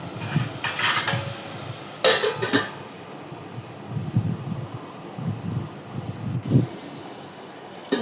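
A spoon stirs sambar vegetables in a pot, giving faint, scattered scrapes and light metallic clinks in a quiet room.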